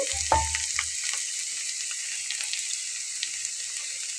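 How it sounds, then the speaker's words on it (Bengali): Green chilies fry in hot oil for a spicy mashed chili dish, giving a steady close sizzle with a few scraping stirs near the start and no talk. "খুব ভালো করে আমি ভেজে নিয়েছি দেখুন তেল ছেড়ে দিয়েছে"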